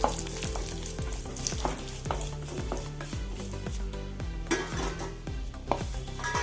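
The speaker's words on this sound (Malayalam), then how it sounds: "ഇനി മുളകൊന്ന് വറുത്തെടുക്കാം" Dried red chillies fry in coconut oil, a close crackling sizzle under rhythmic metal clinks and scrapes of a spoon stirring the pan every half second or so; no speech.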